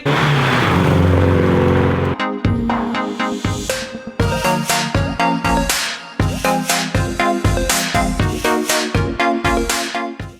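A 1988 VW Scirocco engine rumbles and revs close by as the car arrives, a steady roar followed by a series of sharp, rhythmic bursts of acceleration.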